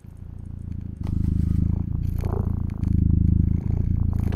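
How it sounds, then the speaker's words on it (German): A cat purring sound effect: steady, close and loud, with a rhythmic rumbling pulse and a few soft scratches and rustles. "Ich suche mal nach Cat. Cat Purr."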